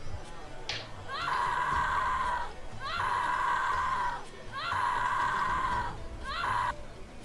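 Several people, women among them, scream in four long, shrill, wavering bursts separated by brief pauses, loud and close, set as distant commotion in a tabletop Dungeons & Dragons fantasy scene.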